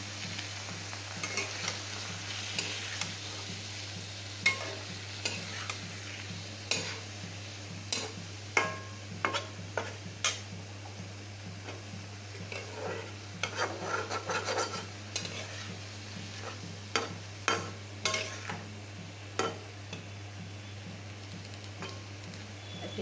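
Soya chunks and peas being sautéed in oil in a pan, a low sizzle under repeated scraping strokes of a spatula against the pan, irregular and close, with a steady hum beneath.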